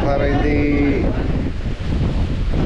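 Typhoon Uwan's strong wind roars at a farm, loud and constant, buffeting the microphone, with a voice speaking over it early on.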